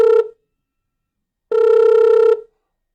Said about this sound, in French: Oh, la personne appelle.